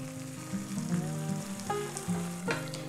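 An egg fries in a pan seasoned with salt and smoked paprika, giving a steady close sizzle and crackle that runs the whole time, with no voices over it.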